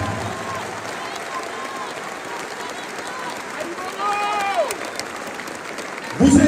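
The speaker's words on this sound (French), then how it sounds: "je vous demande de vous applaudir avec la plus grande puissance et que toutes les caméras du monde entier puissent vous entendre" University audience applauds loudly and at length, a continuous roar of clapping and crowd noise with some voices and shouts rising within it, swelling briefly louder near the end.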